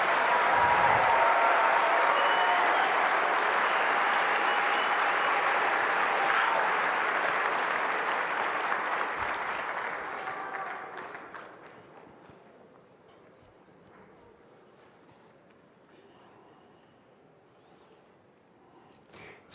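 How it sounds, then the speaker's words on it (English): Sustained applause from an audience in a Dutch lecture hall greets a professor taking the stage. It is loud and dense for about ten seconds, then fades to a thin patter and near quiet. "please have a big applause for Professor Jordan Peterson"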